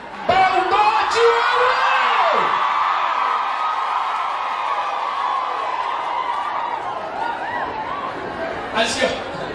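A live audience at a Kikuyu music event cheers and applauds loudly and continuously, with whoops and shouts rising over a steady crowd roar.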